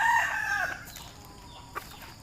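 A rooster crows once near the start among gamecocks, the call trailing off, followed by quieter background clucks and a faint short bird call.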